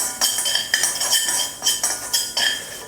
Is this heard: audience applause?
no